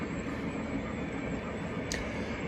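A model railroad train runs along its track on a holiday layout, a steady close rumble that fills the whole stretch with no talk.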